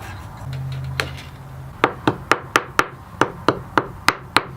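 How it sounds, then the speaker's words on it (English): A tiny mallet made from a dowel taps thin wire into a groove in a wooden jewelry holder for a butterfly inlay. About ten quick, evenly spaced, crisp taps follow a brief soft hum. "tapping this tiny wire into the groove all the way around"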